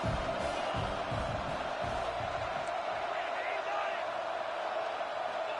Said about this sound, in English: The crowd is loud, hoping for a fourth down stop.